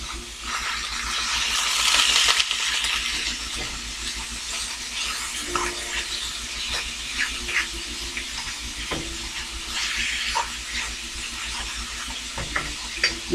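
Hamburger meat chopped up with a utensil while it browns in a pan, steady sizzling hiss with scattered sharp scraping and tapping clicks, no talking.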